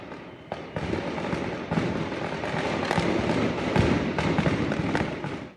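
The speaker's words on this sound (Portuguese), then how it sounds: "Foram cerca de 30 minutos de explosões em série que assustaram a população" A rapid series of fireworks bursts, crackling and popping one after another at a distance with a continuous rumbling wash between them, from a fire at fireworks stalls.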